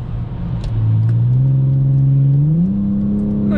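The V6 petrol engine of a 2003 Mercedes C240 W203 revs up steadily, its deep growl rising in pitch and holding loud and close with no talking.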